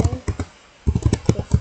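Computer keyboard keys pressed while setting up an Apache web server, a quick cluster of close, crisp clicks, a short pause, then a faster run of several taps.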